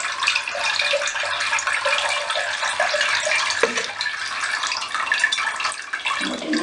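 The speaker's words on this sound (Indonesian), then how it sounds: "Siram dari bagian atas secara menyeluruh, jangan kena daunnya." Water poured from above onto a potted orchid, a continuous close splashing and spattering stream that runs steadily throughout with no talk.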